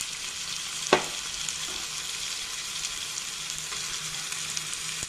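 Ground fenugreek-leaf chutney frying with chopped onion in a pan on a gas stove, a steady soft sizzle throughout with one sharp clatter near the start.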